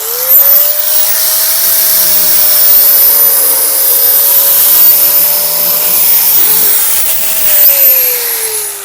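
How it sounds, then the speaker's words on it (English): Steady, loud whine of a power tool, likely a grinder, cleaning up a rough steel weld on a homemade pet stair sled, running continuously for about nine seconds with slight pitch wavers and no talking. "Clean up this weld a bit."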